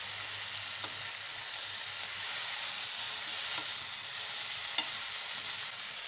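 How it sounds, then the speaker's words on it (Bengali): Paneer pieces fry in a pan for an onion-free, garlic-free navratna korma, a steady close sizzle carrying on throughout with a few faint clinks of stirring. "এবারে পনিরগুলো দিয়ে দিচ্ছি।"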